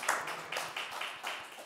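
A church congregation claps together during a Sunday worship service, a quick run of steady hand claps heard at a moderate distance with no talking.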